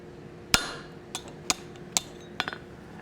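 Hot metal is struck with a hammer on the horn of an anvil during a forging session, giving five or six sharp, ringing blows spaced irregularly against a quiet background.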